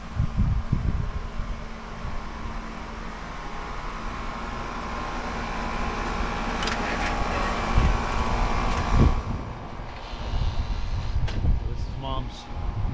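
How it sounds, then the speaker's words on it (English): A massive outdoor air conditioner at a house runs with a steady, broad whooshing hum. Gusts of wind and some rustling sit over it, with a few faint clicks and knocks near the end. "their massive air conditioner"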